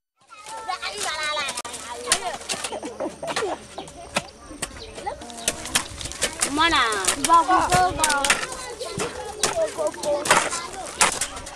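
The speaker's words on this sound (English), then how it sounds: "The sounds of birds show a new day" Birds chirp and trill throughout on a hazy morning at a school, mixed with children's voices and lively activity close by.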